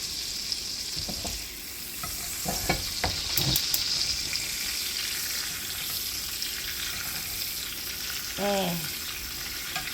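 Steaks searing in a hot frying pan give a steady broadband sizzle with scattered crackles and pops, a few louder bursts near the middle, and a brief scraping stir near the end.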